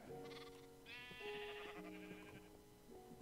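Sheep bleating in Minecraft on a sheep farm, several quiet wavering bleats overlapping in quick succession, fairly faint.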